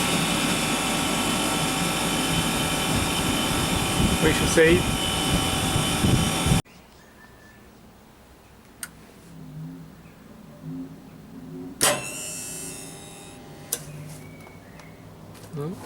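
A Zanotti refrigeration cooling unit runs with a loud, steady mechanical hum and fan drone for about six seconds, then cuts off abruptly, leaving quiet background with a few clicks and someone talking.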